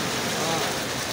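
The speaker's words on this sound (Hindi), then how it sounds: "ये देखिए बारिश एक बार फिर से ज़ोर पकड़ चुके हैं" Heavy rain pouring down in Islamabad near a parking area, a dense, loud, continuous hiss of water hitting the ground with no breaks.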